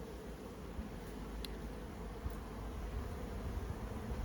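A low, steady drone of Buckfast honeybees buzzing in an open hive, close and continuous, with a faint click or two and no voices.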